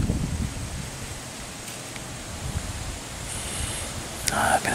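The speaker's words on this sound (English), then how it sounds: "It's windy. My tree's gonna break, it's so windy." Steady wind gusts rush through trees, a broad soft roar with some rustling, continuous and moderately faint throughout, heard from a deer stand in early October in Missouri.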